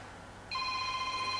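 Telephone ringing in a lecture hall, a single electronic ring tone that starts abruptly partway through and holds steady, moderately loud over quiet room tone, with no voices.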